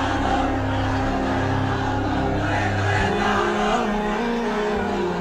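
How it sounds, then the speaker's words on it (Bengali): A large crowd at an Islamic sermon gathering roars and chants slogans together, a loud, continuous wall of many voices that swells and sustains throughout. "স্লোগান লাগবে। স্লোগান দেন একজন।"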